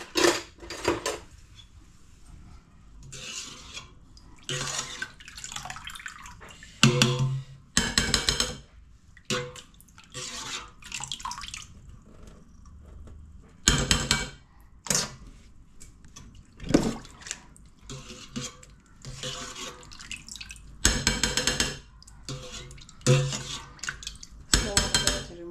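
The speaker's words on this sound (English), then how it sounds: "then I wash the maize clean" Boiled maize washed by hand in a basin of water for githeri: repeated splashing, sloshing and clattering against the pot in irregular bursts, close and fairly loud, with occasional drips between.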